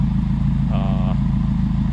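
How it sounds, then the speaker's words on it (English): Exhaust of a 2017 Subaru WRX Premium fitted with a Perrin turbo sump restrictor, a loud, steady, pulsing engine rumble heard up close and continuous throughout, with a brief faint voice in the middle. "I hear the exhaust flow, and it's loud."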